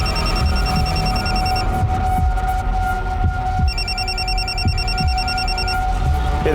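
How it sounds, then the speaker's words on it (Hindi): A phone rings repeatedly in bursts of electronic tones over a steady hum and background noise in an indoor setting, with no one speaking. "ये फोन किसका बज रहा है?"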